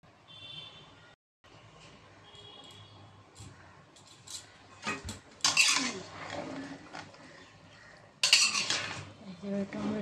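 Biryani being stirred in a pot, with intermittent metal spoon scrapes and clinks against the pot building to a few louder bursts, close, over a quiet background and with no one talking.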